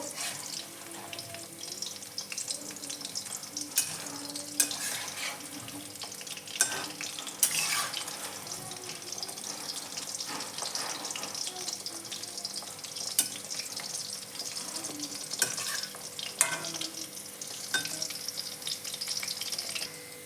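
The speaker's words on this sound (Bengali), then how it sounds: "পাকোড়াগুলো আমার হাফ ভাজা হয়ে গেছে" Steady crackling sizzle of battered chicken pakoras frying in hot oil, continuous for the whole stretch with occasional louder pops and faint clinks of utensils.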